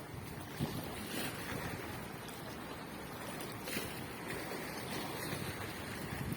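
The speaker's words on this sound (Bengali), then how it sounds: "এটা হচ্ছে একটা গ্যাসবাহী জাহাজ, অনেক বড়, বিশাল" A large Omera gas tanker ship moves toward Mongla sea port, heard as a steady, broad wash of wind and water around the vessel with continuous rumbling noise and no voices.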